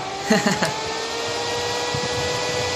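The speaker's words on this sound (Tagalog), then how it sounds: "ang lakas ng fan" Loud cooling fan of a Krell CA16 amplifier after repair, a steady close whooshing roar that runs throughout, with a voice speaking briefly near the start.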